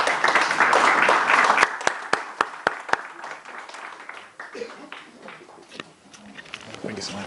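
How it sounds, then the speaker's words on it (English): Audience applause welcoming a rabbi to the stage at a talk on laughter, a dense roar of clapping for about a second and a half that breaks into a few loud, spaced individual claps before fading to murmur and room noise. "let's give a nice loud round of applause to Rabbi Y.Y. Rubinstein."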